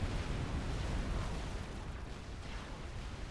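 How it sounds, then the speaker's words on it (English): Artillery shells striking the ground in the real-time strategy game Supreme Commander, heard as a continuous dense rumble of overlapping explosions, loud and steady without a clear break. "Artillery landing near Sandman."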